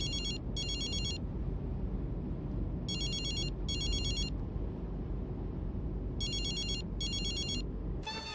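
A telephone bell rings in repeated short double bursts, loud and close, with pauses between the bursts and a steady low background hum throughout.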